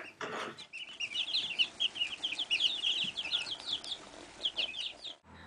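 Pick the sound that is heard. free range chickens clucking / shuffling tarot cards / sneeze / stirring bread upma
free range chickens clucking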